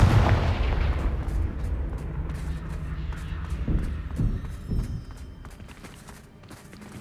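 Confringo fire spell in the video game Hogwarts Legacy, a loud, rumbling blast that rolls and fades over several seconds, with a few lighter impacts and clicks afterward.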